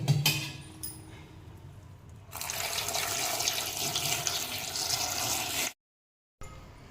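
Cold water from a tap gushes over soya chunks in a bowl, a loud, steady close-up stream that starts abruptly, runs several seconds, then cuts off.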